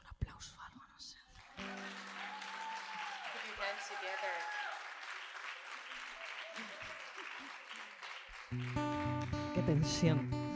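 Audience applause at a poetry performance rises into a steady, moderately distant wash of clapping that holds for several seconds, with whispering and soft voices around it and a louder burst near the end.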